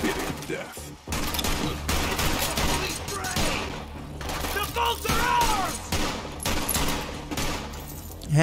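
Rapid gunfire and mechanical weapon clatter from Borderlands 3 form a dense, continuous barrage, with a player's voice talking over the shooting.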